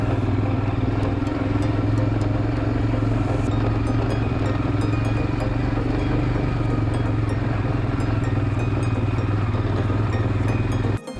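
Motorcycle on an off-road ride toward Krishnapur, its engine droning steadily and loud with rattling and clatter throughout, cutting off abruptly at the end.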